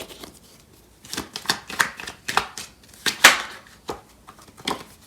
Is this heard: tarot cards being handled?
yes